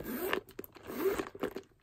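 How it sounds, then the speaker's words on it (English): A brass zipper on a Coach leather carryall bag being pulled in several short, close, rasping strokes, with brief pauses between, and no talk. "Then of course, the brass zipper."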